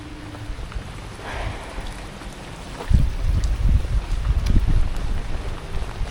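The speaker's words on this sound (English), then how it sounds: "It's raining a lot" Steady heavy rain falls outdoors at a steam railway yard, a broad wash of noise with wind buffeting the microphone and growing louder and more rumbling in the second half.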